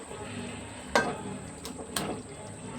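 Pieces dropped into a hot pan, a couple of clattering impacts followed by a soft, steady sizzle of frying, close and moderate in loudness with no talk.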